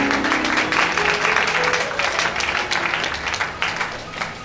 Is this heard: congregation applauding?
yes